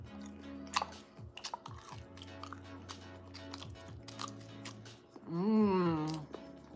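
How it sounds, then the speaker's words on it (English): Someone chews food loudly and close to the mic, with wet smacking and crunchy bites repeating over soft background music, ending in a brief hum of approval. "I'm gonna chew even louder."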